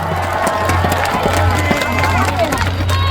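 A crowd at an outdoor county community festival concert claps and cheers continuously, a dense spread of hand claps under a steady low hum.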